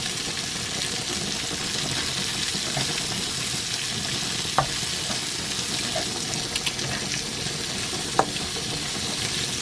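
Chopped onion and garlic frying in a pan, a loud, dense, continuous sizzle close by, with a couple of faint clicks and no talking.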